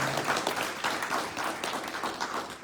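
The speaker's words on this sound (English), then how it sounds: "we want to give our speakers definitely another round of applause for your graciousness" Audience applause for the speakers at a faith-community event on ending homelessness, a continuous round of many hands clapping, fairly close and full throughout.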